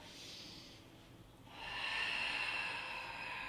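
A deep breath drawn through the nose and mouth during a Pilates exercise, a soft airy inhale that swells into a steady rushing hiss in the second half, close and fairly quiet.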